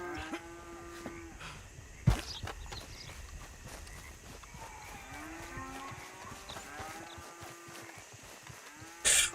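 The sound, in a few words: cows mooing in video game Red Dead Redemption 2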